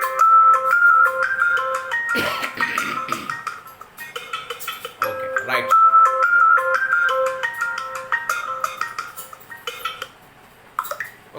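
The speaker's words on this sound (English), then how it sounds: "Here the mobile phone is ringing." A mobile phone ringtone plays a repeating electronic melody loudly and close, in two bursts with a brief pause, while a person speaks a couple of words and faint clatter sounds in the background.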